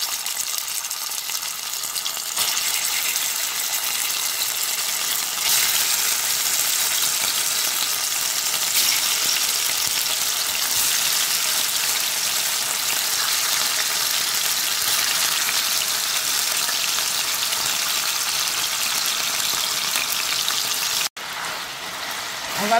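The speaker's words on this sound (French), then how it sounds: "On va tout d'abord commencer par griller la viande." Beef sizzling and frying in hot oil in a pan over high heat for yassa, a steady loud crackle with watery hiss throughout and no talking, with a brief dip near the end.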